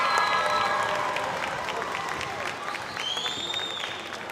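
A high school basketball crowd applauds seniors on senior night in the gym, sustained clapping and cheering with whistles and shouts, loud and continuous throughout.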